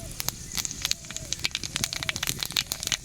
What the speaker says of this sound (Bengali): তেলটা গরম হয়ে গেছে ফোড়নে দিয়ে দেব কালো জিরে